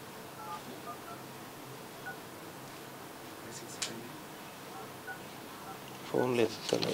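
Touch-tone telephone keypad dialing, a sparse series of short electronic beeps over low background hiss, with voices talking near the end.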